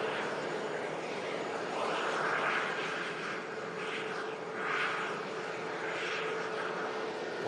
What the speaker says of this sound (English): Capture this EasyJet touching down for you guys.